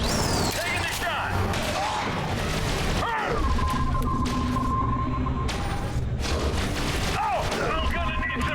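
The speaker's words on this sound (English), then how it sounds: "Taking the shot!" A gunshot in The Bureau: XCOM Declassified video game, heard as sharp booming bursts amid combat noise and a sustained tone, with characters shouting over the fight.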